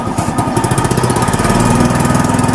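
A tricycle motorcycle engine runs in the rain with a rough, choppy putter that settles into a steady idle, heard up close and loud with no talking.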